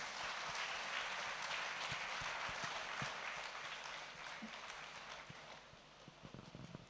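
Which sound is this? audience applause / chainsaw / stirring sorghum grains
audience applause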